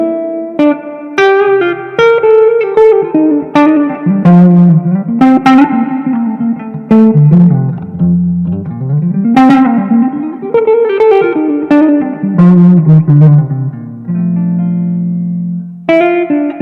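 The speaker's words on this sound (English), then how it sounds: "So this is the poly pitch effect" Electric guitar played through a Line 6 HX Stomp poly pitch effect set seven semitones down, loud melodic single notes and short runs with a lowered, slightly processed doubled tone, ringing with reverb.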